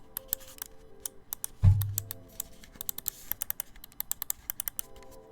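Side buttons on a Hitscan Hyperlight gaming mouse click rapidly and crisply, many short close ticks in irregular bursts, with one duller thump partway through.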